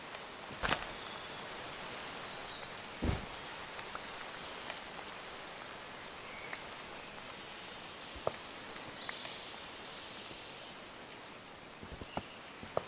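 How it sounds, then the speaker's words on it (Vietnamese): Steady rain hisses down in Minecraft, a dense even wash with occasional sharper drops and clicks, continuous and fairly loud throughout. "Giờ cơn mưa thật là đáng ghét nè"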